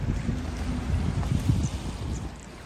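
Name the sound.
wind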